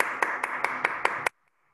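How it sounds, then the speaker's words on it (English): Clapping for a student in a Grade 5 online English class: six crisp, evenly spaced claps ring out at a steady rhythm, then stop abruptly into near silence. "So a round of applause to Layan."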